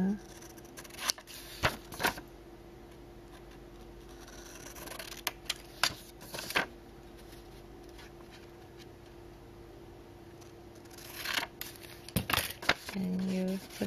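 Scissors snip through paper at the corners of a stacked-book craft piece, several short sharp cuts in irregular clusters, close and clear, with a voice speaking at times.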